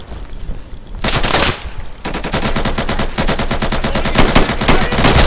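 Automatic rifle fire in the video game Insurgency, loud, close, rapid bursts. A short burst and a pause give way to long, sustained strings of shots.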